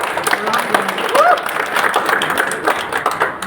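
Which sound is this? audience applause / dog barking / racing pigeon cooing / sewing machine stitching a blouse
audience applause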